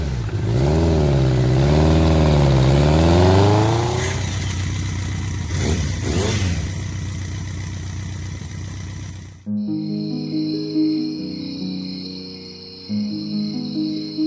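During a Malayalam stage drama, a motorcycle engine revs up and down in loud, wavering surges for several seconds, then settles into a rough idle before stage music takes over.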